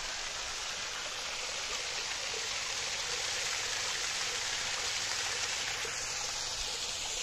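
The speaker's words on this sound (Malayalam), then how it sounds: "അങ്ങനെ വെള്ളച്ചാട്ടം" A small waterfall in a scenic natural spot, its water rushing as a steady, dense wash that carries on evenly and fairly near throughout, with no voices.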